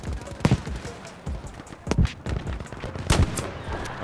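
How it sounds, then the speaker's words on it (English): Gunfire in the Battlefield 5 video game comes in several sharp bursts of rapid shots with echoing tails, some louder and closer than others, spaced across the moment with background battle noise. "He's shooting at me"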